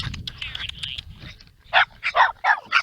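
A dog barking in short loud bursts outdoors at an RC airplane flying field, several sharp barks in quick succession after some quieter whining and yips.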